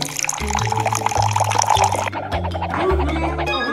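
Water gurgles and sloshes as it fills a person's mouth at home, a close, wet burbling with a few throaty hums and swallow-like sounds over several seconds.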